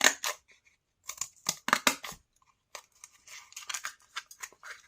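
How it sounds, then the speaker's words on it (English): Scissors snipping and cutting out a slit in craft material for Christmas decorations, a series of close, crisp, irregular crunchy cuts separated by short pauses, with no talking. "So now I've got this slit and I'm going to cut this out."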